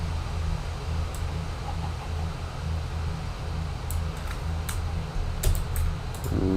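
Keys clatter in light bursts on a computer keyboard while a Minecraft command is entered, soft clicks scattered over a steady fan hum with no voices.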